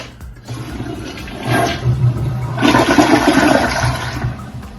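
A toilet in Canada flushes with a loud rushing surge, then water swirls and refills the bowl, swelling again midway through; close, steady and without voices.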